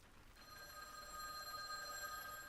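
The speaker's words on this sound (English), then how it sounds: "The phone's incessant ringing continued." A telephone bell rings continuously with a steady, high tonal trill, moderately faint against a low background hiss and with no voices.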